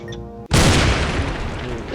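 A bomb detonates in the video game Keep Talking and Nobody Explodes: one sudden loud boom that cuts off quieter sound and then rolls on as a dense, noisy rumble, with no talking over it.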